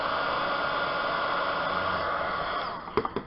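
A steady, close stream of air is blown onto alcohol ink for a junk journal, a continuous breathy hiss that runs for a few seconds before breaking off into a couple of short puffs.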